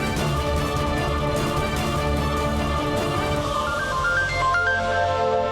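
A phone ringtone plays continuously over a busy musical background, a repeating electronic melody that stays steady and fairly loud throughout.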